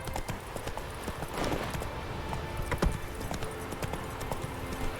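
Horse hooves clip-clopping at a steady walking rhythm in the video game The Witcher 3, close and clear against a busy ambient background, with no talking.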